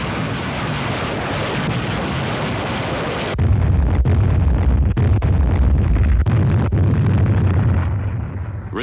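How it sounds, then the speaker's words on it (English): Rocket barrage explosions before the Peleliu beach landings, in archival war footage: a loud, continuous rumbling roar of blasts with sharp impacts breaking through, sustained and heavy throughout. "The assault troops were preceded by a rocket barrage directed against the area behind the"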